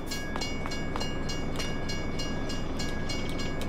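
Train passing in a farming video game, a steady loud rumble of rolling wagons with faint repeated clicks and a thin high tone throughout, no talk.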